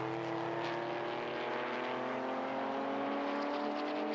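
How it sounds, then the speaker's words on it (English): Two Porsche 996 race cars run nose to tail across the start-finish line at Donington Park, their engines a loud, continuous close roar that holds steady throughout. "The two 996s come over the start-finish line nose to tail"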